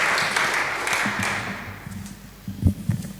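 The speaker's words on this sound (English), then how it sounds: "Do feel free to applaud after people's short talks" An audience at a talk on migration gives a short burst of clapping that fades within a couple of seconds, followed by a few scattered knocks and handling noises.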